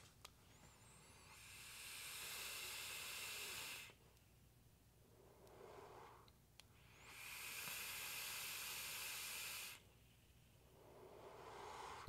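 Vapor is drawn through an Aether squonk mod with a Skyfall RGA 0.22 at 50 watts and airflow wide open, making two long, loud, airy hisses separated by quieter breathing pauses.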